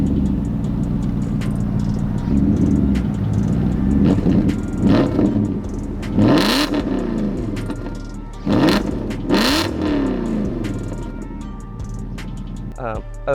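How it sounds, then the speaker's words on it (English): BMW M car engine, an E39 M5 or E46 M3 fitted with an exhaust cutout, idles with a deep rumble and then revs sharply a few times in loud bursts, with someone talking throughout. "Running the car is an exhaust cutout, and I'll let you hear that."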